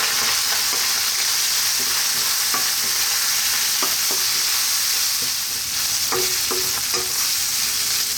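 Beef cooking over fairly high heat in a hot pan with black pepper and salt, sizzling steadily and loudly throughout while a utensil scrapes and stirs it in irregular clicks and knocks.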